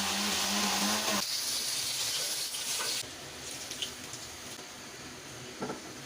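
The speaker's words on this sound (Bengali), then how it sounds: "একই পাত্রে আমি আলু দিয়ে ভেজে নিব।" Potatoes fry in oil in a pan. A strong sizzle fills the first half, then drops to a softer crackle with a few light clinks and stirring sounds, close up and without speech.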